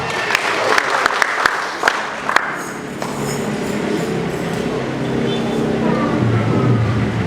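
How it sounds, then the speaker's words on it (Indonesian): Applause from a church audience at a pastor's birthday celebration, a steady wash of clapping with a few sharp claps early on, continuing loudly under faint background voices for several seconds. "Kita tepuk tangan semua."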